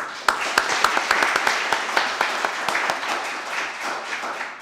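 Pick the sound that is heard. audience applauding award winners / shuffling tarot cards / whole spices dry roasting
audience applauding award winners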